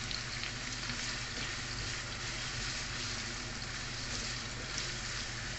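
Chicken pieces fry in oil for chicken afritada, giving a steady, dense sizzle and crackle that stays fairly even throughout, heard close with no talking.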